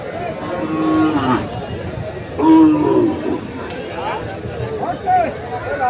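Cows and calves of a native breed moo repeatedly, several calls rising over a busy crowd of chattering people at a cattle market in Kaharol, Dinajpur, Bangladesh, giving a noisy, lively atmosphere.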